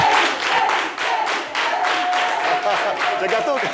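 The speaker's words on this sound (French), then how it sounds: "Sophie Béatrice, qu'on va applaudir bien fort et raccompagner." Audience applauding loudly on a French talk show, a sustained round of rhythmic clapping from a studio crowd with no clear speech.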